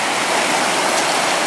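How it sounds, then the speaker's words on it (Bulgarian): A river running full with spring meltwater rushes in a steady, loud broadband roar with no breaks, close by and heard on its own. "Стигнахме до място, където има река."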